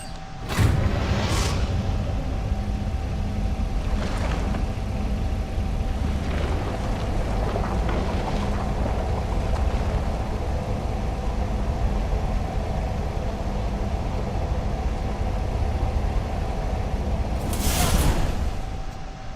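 A giant drill in the Star Trek Resurgence video game gives off a steady, heavy mechanical rumble and hum, with a few whooshing swells near the start and end, constant and fairly loud throughout.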